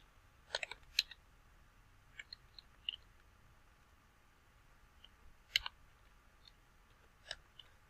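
Sparse clicks from a computer keyboard come in small clusters while a company address is typed. The quiet taps are separated by pauses over a faint background hiss.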